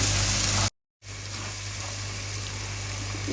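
Spices frying in a pan for daal mash, a steady close sizzle that cuts out briefly, then continues as a constant hiss with a low hum underneath.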